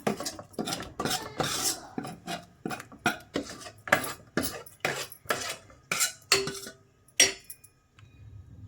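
A spoon stirs cooked lentils and added ingredients inside a pressure cooker, producing a steady run of rhythmic metallic scrapes and knocks, close and distinct, fading out at the end without speech.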